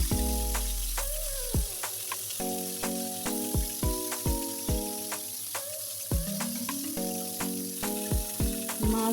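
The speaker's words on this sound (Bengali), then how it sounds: "তেল গরম হয়ে এলে একে একে পাঙ্গাস মাছগুলো গরম তেলের মধ্যে ছেড়ে দিব" Pangas fish fry in hot oil with a faint continuous sizzle, while sharp clanks and tonal metallic strikes ring out intermittently over it.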